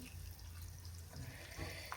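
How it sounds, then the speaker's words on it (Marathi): Water trickles and splashes softly into a cooking pan of spicy masala soybean curry, a quiet, brief pour heard up close over low background hum. "त्यामुळे मी थोडंसं अजून पाणी टाकते ह्याच्यामध्ये"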